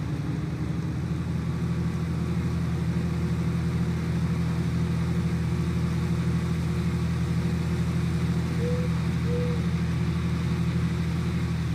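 A combine harvester engine in Farming Simulator 19 runs in a steady, continuous low drone, with no pauses and no voices.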